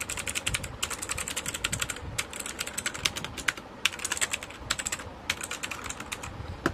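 An HP GK400F mechanical keyboard is typed on close up, giving crisp, rapid clusters of clacking keystrokes broken by short pauses, loud and clear with no voices.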